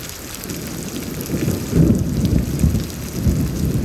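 Heavy rain pours steadily during a lightning storm in Houston, Texas, with rumbling thunder swelling near the middle and again toward the end, loud and close with no voices.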